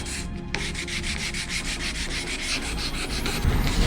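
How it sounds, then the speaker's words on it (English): Hand sanding across a plated metal surface on a narrowboat build, a quick steady rhythm of close, scratchy back-and-forth rubbing strokes with no talk. "But just giving this a light rub to try and get rid of some deeper double plated scratches."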